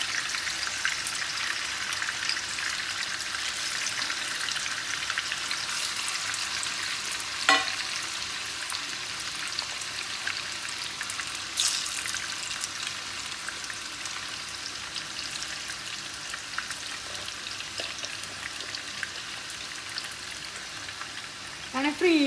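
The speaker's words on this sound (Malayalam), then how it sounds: "കുറച്ച് ചിക്കൻ്റെ ഫ്രൈ ചെയ്ത് വെക്കാണ്" Chicken pieces frying in a pan, a sustained sizzling hiss with occasional pops and spatters and a sharp clatter or two from utensils, steady and fairly close throughout.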